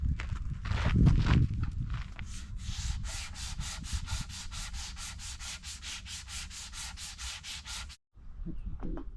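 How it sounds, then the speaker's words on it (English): Fibreglass body filler on a BSA Bantam racer body is hand sanded, a few heavy irregular scrubs at first, then a long run of quick, even rasping strokes close by, a brief pause, and sanding resuming. "So I have got the initial sanding done."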